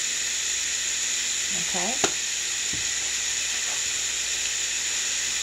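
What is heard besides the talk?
seasoned boneless pork chop sizzling as it cooks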